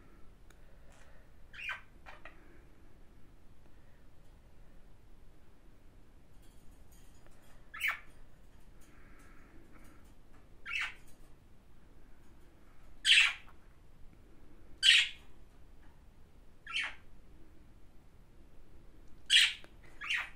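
Pet budgerigars give short, sharp chirps and squawks scattered across a quiet background, a handful of bright calls spaced a second or two apart with longer gaps in between.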